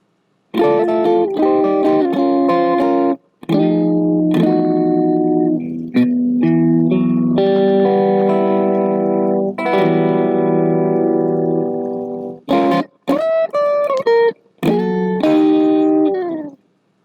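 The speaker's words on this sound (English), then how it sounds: "this is the PureSky, using it as a boost with a little bit of grit." An electric guitar through a Caline Pure Sky pedal used as a boost with mild overdrive plays sustained notes and short chord phrases, loud and close, with brief pauses between runs.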